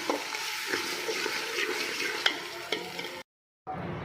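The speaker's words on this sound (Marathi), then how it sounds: "टोमॅटोला पण चांगलं परतून घेऊ." Tomatoes sauté in a pan with a constant sizzle, broken by scraping stirs and a few knocks, then a brief cut to silence before the frying resumes.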